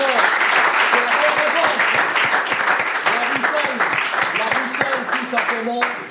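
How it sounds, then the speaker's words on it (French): A studio audience at a televised quiz-style show claps loudly and steadily, with voices and cheers mixed into the applause, tapering slightly at the end. "Est-ce qu'on peut applaudir très fort?"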